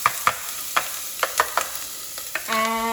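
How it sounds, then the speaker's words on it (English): A brunoise of onion frying in clarified butter in a pan gives a steady, bright sizzle, punctuated by several sharp utensil taps and scrapes. Near the end it swells into a fuller, louder frying hiss. "We need 2 tablespoons of clarified butter in the pan, and to that we're going to add our brunoise of onion"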